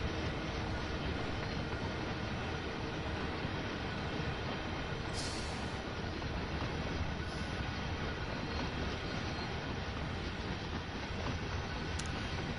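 Diesel rail locomotives rumble past in Train Sim World 2 on the Clinchfield Railroad, a steady dense low roar of engines and rolling wagons filling the whole stretch, with no speech.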